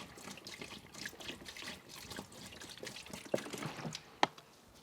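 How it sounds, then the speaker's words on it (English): Fresh water poured into the plenum drain of a Rover 75 car, a quiet, uneven trickle and splash that runs throughout, with a couple of sharper drips near the end. "Right, let's see what happens if I pour water in here."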